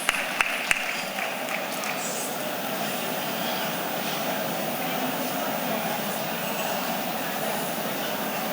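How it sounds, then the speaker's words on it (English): Audience applause at a conference session, a dense steady patter of clapping sustained throughout with a few sharper claps at the start. "A round of applause, please, for him."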